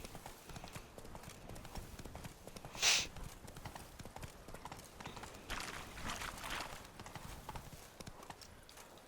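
The horse Roach walks in The Witcher 3 with a steady clip-clop of hooves, soft and fairly close, with one sharper bright clink partway through.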